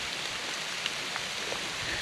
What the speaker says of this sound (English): it's actually starting to rain pretty good